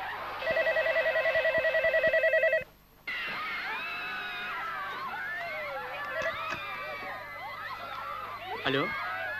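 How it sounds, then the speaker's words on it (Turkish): A telephone rings in a steady electronic trill, a loud rapid series of rings that stops abruptly, followed by voices and room sounds as someone goes to answer. "Ben telefona gidiyorum."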